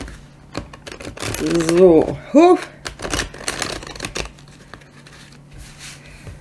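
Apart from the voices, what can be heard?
shuffling oracle cards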